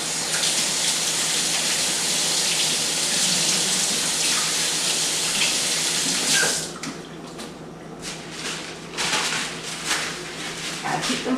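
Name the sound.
tap running while washing hands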